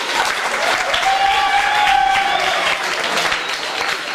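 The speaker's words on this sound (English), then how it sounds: "Give yourselves a round of applause, everybody." An audience at a school sports awards ceremony held in a cafeteria applauds steadily, a dense wash of clapping with a brief whistle-like tone in the middle, loud and sustained.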